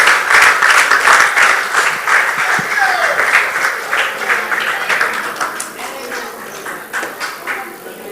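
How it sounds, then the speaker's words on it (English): Audience applause at a cricket association awards ceremony, a steady loud wash of clapping that slowly fades over several seconds. "And I would like another round of applause for Sheila ma'am"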